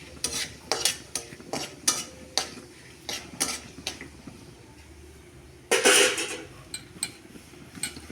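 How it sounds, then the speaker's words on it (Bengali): A spoon stirs cumin seeds, bay leaf and dried red chili in hot oil in a pan, giving a series of sharp, irregular metallic scrapes and clinks over a faint, quiet sizzle. "তার সাথে দেব 1 চা চামচ জিরে আর তেজপাতা দিয়ে ভালো করে নাড়ব"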